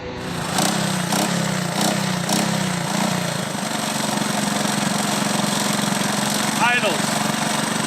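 An old Honda three-wheeler, long abandoned in a barn and just revived, idles with a steady low mechanical drone that runs continuously and close by throughout.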